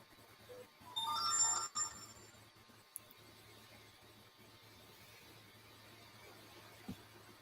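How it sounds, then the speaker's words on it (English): A phone rings once with a short bright electronic ringtone burst near the start, then fades into quiet room hiss with a faint click later. "My phone's blowing up."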